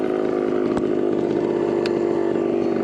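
A 1974 Suzuki TC125 two-stroke motorcycle puttering in low range first gear, its engine a steady, loud, close buzzing drone with a couple of faint clicks, no talk.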